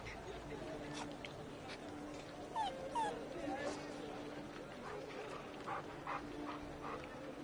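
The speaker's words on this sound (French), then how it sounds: "Quel terrible chien de garde tu fais." A dog in Assassin's Creed: Black Flag whimpers and gives soft yips amid a murmur of background noise, the high whines rising and falling a few times.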